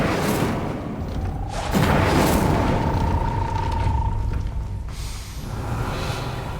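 A fiery Incendio spell is cast in the Hogwarts Legacy video game, a deep whooshing boom that swells with a held ringing tone for about three seconds before cutting off, loud and close over the game's ambient rumble.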